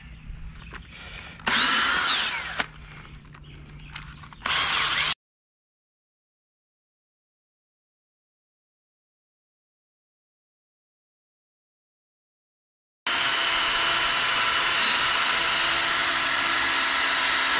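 A cordless drill spins a polishing pad with compound over a faded car headlight lens, running in short loud bursts, then silence, then a long steady high whir close by.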